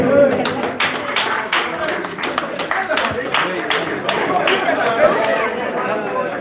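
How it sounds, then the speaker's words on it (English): Audience applause at the finals of a tournament, scattered clapping mixed with lively crowd chatter, people talking throughout close by. "Round of applause for Daryl"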